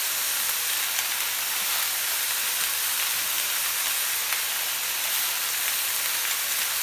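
Cherry tomatoes sizzling on a hot plancha griddle, a dense steady hiss that stays constant and close with no talk over it.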